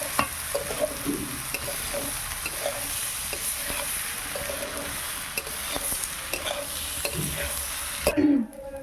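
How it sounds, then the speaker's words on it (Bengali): Washed Gobindobhog rice frying in a wok, giving a continuous close sizzle with regular scraping stirs, and a brief clatter just before it cuts off near the end. "গোবিন্দভোগ চাল ভালোভাবে ফ্রাই করে নিয়েছি।"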